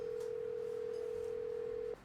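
A steady telephone dial tone from a call being placed in the Nancy Drew video game The Secret of Shadow Ranch, holding unbroken for about two seconds and then cutting off abruptly.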